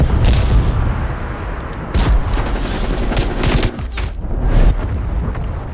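Loud, dense gunfire from a hostile aircraft's strafing run in a video game, a continuous rattling barrage with heavy booming impacts throughout, close and overwhelming, with no talk over it.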